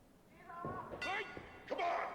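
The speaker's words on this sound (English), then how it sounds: "You hear that opening bell." A ring bell clangs twice to open a match in a wrestling video game, two bright metallic dings about a second apart, close and loud, with faint talk underneath.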